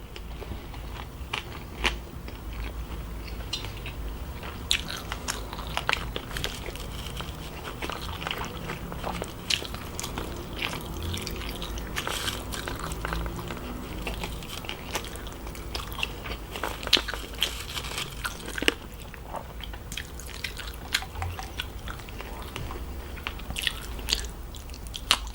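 Someone eats kimchi, seaweed, sushi and salmon close to the microphone, with repeated crunchy bites and wet chewing. The crackly sounds come in an irregular rhythm over a quiet background.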